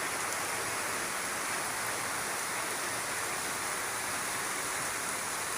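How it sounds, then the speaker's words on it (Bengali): Heavy rain pours steadily outside a balcony, a dense, unbroken wash of hiss at an even loudness with no voices. "এই যে কি শব্দ বৃষ্টির জন্য"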